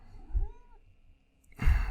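A soft, brief meow rises and falls at low volume in a quiet room, followed by a louder rustling burst.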